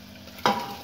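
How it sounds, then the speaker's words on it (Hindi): A sudden loud sizzle bursts in as hot oil tempering is poured into a pressure cooker of black-skinned lentil dal, then settles into a steady crackling hiss that lingers. "कुकर में तड़का लगा देंगे"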